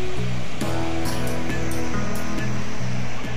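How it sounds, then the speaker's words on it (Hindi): Jamjir waterfall in Gir Somnath during the monsoon, a loud, steady roar of heavily falling water that fills the whole clip without any voices. "जंजीर वाटरफॉल जो कि जामवाड़ा के गिर सोमनाथ में स्थित है"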